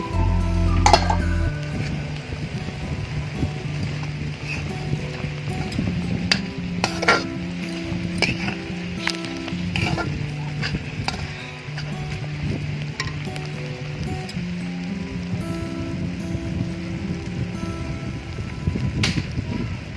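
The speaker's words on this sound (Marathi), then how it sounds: "भाजीवरचं झाकण काढून घेऊया आणि भाजी परतून घेऊया" Kurdu greens being sautéed in a pan, with soft sizzling and a spatula stirring, scraping and clinking against the metal in irregular taps at close range.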